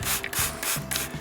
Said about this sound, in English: So I'll spray over the top of that